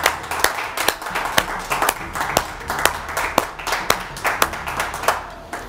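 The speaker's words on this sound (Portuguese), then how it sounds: "Uma salva de palmas, senador Randolfo Rodrigues." Applause for a senator, with a few distinct hands clapping in a sharp, uneven rhythm close by over a thinner background of clapping, no voices over it.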